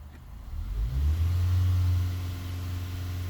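A 2015 Honda Accord engine, affected by a P0303 cylinder misfire fault, revs up from idle to about 2000 rpm, a close, steady low drone that swells and then settles into a sustained hum.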